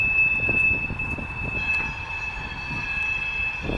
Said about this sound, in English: There they go, the screeching of the wheels.